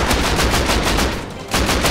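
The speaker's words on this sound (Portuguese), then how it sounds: "É tiro, moleque!" Rapid automatic gunfire in the survival game Rust, loud and close bursts of rattling shots with a brief pause near the end before firing resumes, no talking.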